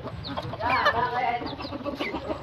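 A white labuyo junglefowl clucks close by in short, bright bursts of calls, outdoors, with a faint low background.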